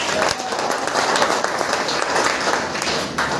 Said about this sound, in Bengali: এবার কোম্পানির জন্য একবার জোরে হাত তালি হয়ে যায়